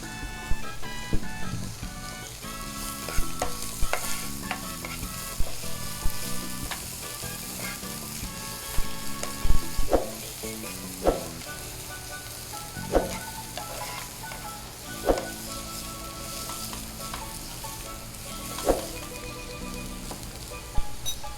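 Onions sauté in a pan for camaru, a steady loud sizzle broken by sharp clicks and scrapes from stirring.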